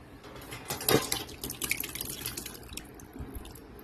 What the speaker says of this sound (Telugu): ఈ రసం అంతా కారిపోతుంది